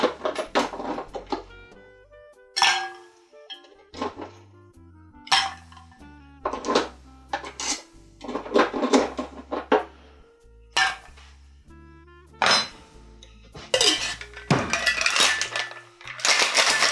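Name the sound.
shaking Paloma tequila cocktail with ice cubes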